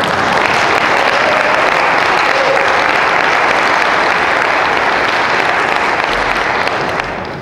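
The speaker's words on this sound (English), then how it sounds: "So now that you guys applauded," Loud, sustained applause from an audience at a political speaking event, a thick wash of clapping hands that stays full and even before easing slightly at the very end.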